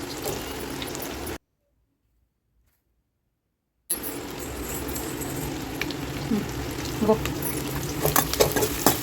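Chopped onions frying in three spoons of oil in a pan for Andhra-style country chicken curry, a steady close sizzle and stirring with utensil scrapes, broken by a gap of silence partway through.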